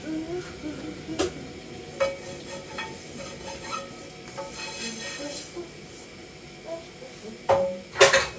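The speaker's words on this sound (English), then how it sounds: "let that fry off for a bit" Chicken gizzards fry in a pot, a soft sizzle under repeated scraping and knocking strokes of a stirring utensil against the pot, close and moderately quiet, with a sharper clatter near the end.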